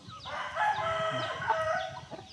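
A rooster crows in a long, drawn-out call close by while chickens cluck and murmur around it in a farmyard.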